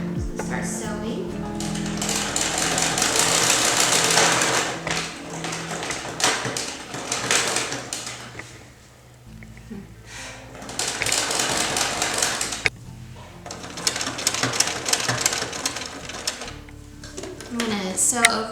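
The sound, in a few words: sewing machine stitching tipi canvas over twine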